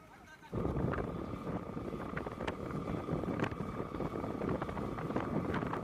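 A passenger river launch pulls away from a ghat on the Barisal to Bhola route, its steady engine drone and rushing water rising suddenly after a quiet start and holding as a loud, continuous rumble with occasional light knocks.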